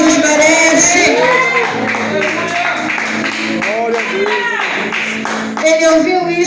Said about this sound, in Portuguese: Bata uma salva de palmas,